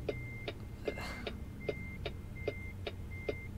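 A steady low engine rumble runs beneath a sharp, regular beeping click repeating about twice a second, from a truck in American Truck Simulator.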